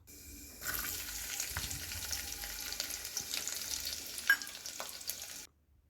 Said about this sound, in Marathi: त्यामध्ये जिरे मोहरीची आपण फोडणी देऊन घेणार आहोत